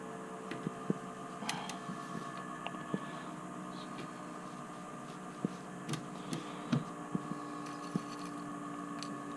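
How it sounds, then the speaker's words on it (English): A sewing machine motor runs while stitching a tankini skirt, a faint, steady hum with a few soft clicks and ticks, and no voices. "Listen to that motor."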